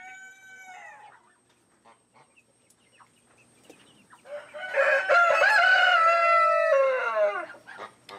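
A white naked neck rooster gives a short crow, then after a quiet gap a long, loud, strained crow sounds close by. Scattered faint clucks fill the pause.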